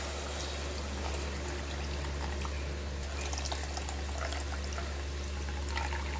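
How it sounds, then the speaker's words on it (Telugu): Tamarind extract poured into a pan while making fish curry, a steady soft liquid pour and trickle running continuously at close range with no talk. "ఇప్పుడు చింతపండు పులుసు అయితే వేసుకోవాలి"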